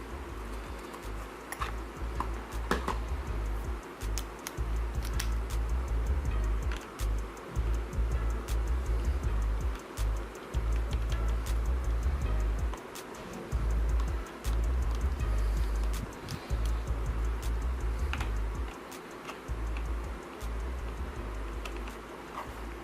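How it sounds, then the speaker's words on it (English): Laptop back cover screws are being unscrewed to reach the RAM, giving faint, irregular ticking clicks from the screwdriver over a steady low hum, with no talking. "we just unscrew these two screws to uncover the RAM"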